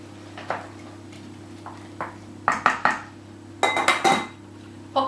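A spoon scraping and clinking against a pan while dried apricot jam is stirred on a low hob, scattered metallic knocks and taps in small bursts over a steady background hum.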